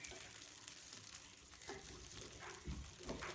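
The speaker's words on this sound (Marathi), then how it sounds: "तेल टाकायचं आणि परतून घ्यायचं" Chillies sizzle in hot oil while sautéing for thecha, a soft, steady frying hiss at low volume with faint stirring scrapes now and then.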